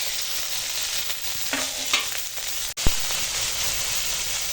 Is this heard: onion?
yes